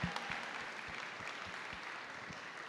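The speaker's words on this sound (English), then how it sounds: "I would love to actually give a quick round of applause for all of them" A round of applause at a market research event, a faint, steady wash of many hands clapping heard from a distance, evenly sustained with no voices over it.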